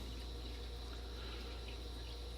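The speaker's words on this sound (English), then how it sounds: "it is kicking the water out and it turned off" A newly installed sump pump pushes water out in a steady, continuous wash of flowing liquid with a low hum beneath, even and unbroken throughout, with no voices.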